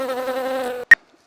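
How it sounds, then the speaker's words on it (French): A big fly buzzes loudly and steadily close by in a kitchen during summer, then the drone cuts off abruptly, followed by a single sharp click. "Il y a une grosse mouche."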